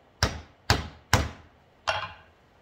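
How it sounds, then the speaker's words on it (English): Four sharp hammer blows setting a jeans button rivet on a piece of wood, the first three evenly spaced and the last after a short pause, close and loud. "Two good hit with the hammer."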